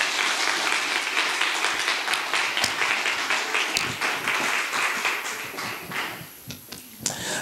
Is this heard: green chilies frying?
no